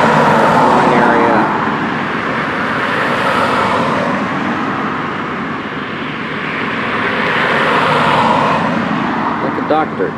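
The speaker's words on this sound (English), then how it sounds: "Helicopter's returning." A police helicopter flies over a street in Austin, its loud droning roar swelling, easing and swelling again as it passes, mixed with road traffic and faint voices.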